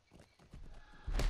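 Hooves of a ridden horse mount in the LOTRO fantasy game, a few soft clopping steps building to a louder burst of hoofbeats near the end, with no talk.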